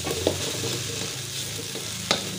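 Instant noodles with freshly added spring onion are stir-fried in a hot pan, giving a steady close sizzle broken by a couple of sharp clinks of a utensil against the pan.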